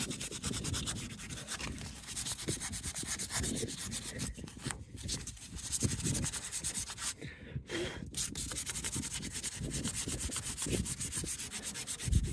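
Close, steady scratchy rubbing of P800 sandpaper scrubbing paint off a van's exterior, continuous back-and-forth strokes with two brief pauses.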